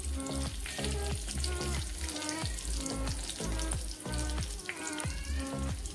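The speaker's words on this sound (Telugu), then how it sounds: "పోపు పెట్టుకుందాం" Garlic, cumin, dried red chillies and curry leaves hit hot oil as a tempering for amaranth-leaf dal, giving a continuous close crackling sizzle that holds steady from start to finish.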